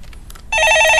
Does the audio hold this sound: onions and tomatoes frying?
no